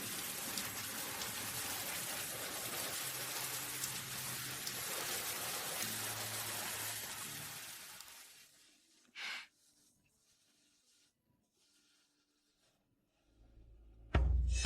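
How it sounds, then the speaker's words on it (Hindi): Steady rain pours down outdoors for about eight seconds in a dense, even hiss, then stops abruptly, leaving near silence broken by a brief burst and a low rumble at the end. "बारिश शुरू हो गई है।"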